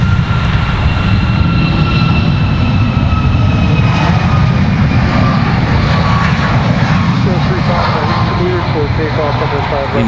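Boeing 737 MAX airliner engines roaring at Raleigh Durham airport, a loud sustained drone with whining tones that slowly shift, alongside a voice talking.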